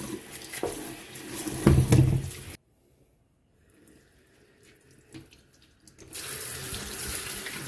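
A running kitchen tap splashes as food is washed under it, loud close water flow that cuts off into near silence and then resumes.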